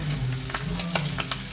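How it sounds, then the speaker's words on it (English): Beer-battered squid rings frying in a shallow pan of hot oil, a steady close sizzle with a few sharp pops and crackles spread through it, no talking. "Just get them sizzling away, maybe a minute, 2 per side, flip it over,"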